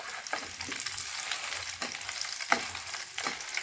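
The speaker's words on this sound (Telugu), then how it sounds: "ఇట్లా కరివేపాకు, వేరుశనగపప్పు, వేయించిన శనగపప్పు ఇలా అన్నీ చక్కగా వేయించుకొని" Curry leaves, peanuts and roasted chana dal sizzle steadily in hot sunflower oil for homemade boondi, with a bright continuous crackle broken by occasional stirring scrapes, close and moderately loud.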